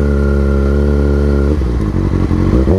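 Kawasaki Ninja ZX6R sport bike engine idling loud and steady with a strong harmonic drone, then blipped into a few quick revs and clattering throttle bursts near the microphone.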